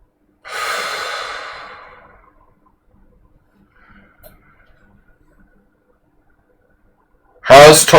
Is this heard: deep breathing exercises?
yes